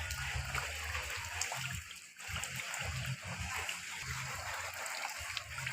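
Food being washed by hand in a basin of water for a Thai sweet dish, with steady splashing and sloshing close by, broken into repeated bursts with brief pauses.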